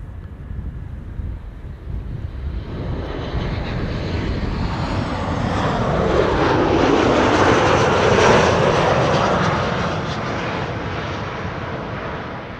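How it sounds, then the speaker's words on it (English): Transavia passenger jet arriving at Amsterdam Schiphol from Ljubljana, a loud broad engine roar that swells to a peak near the middle as it passes close, with some wind buffeting on the microphone, then slowly eases. "This is Transavia flight 6820 arriving from Ljubljana in Slovenia."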